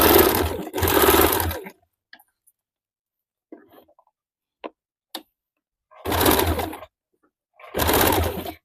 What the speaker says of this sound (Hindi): ठीक पाइपिंग के बगल से हम लोग एक सिलाई चला देंगे।